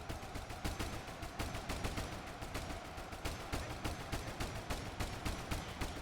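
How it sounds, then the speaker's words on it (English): Soldiers in Ultimate Epic Battle Simulator fire automatic weapons in a dense, steady stream of sharp shots, many rounds overlapping at a fairly slow, regular cadence, loud and continuous with no pause. "Because he's shooting fairly slowly."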